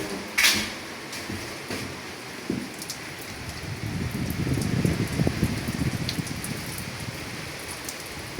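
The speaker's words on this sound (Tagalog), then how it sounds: "Naabot tayo ng ulan." Steady rain patters and hisses on a nearby surface of a newly floated boat, growing heavier midway, with a few knocks and clatters early on and no speech.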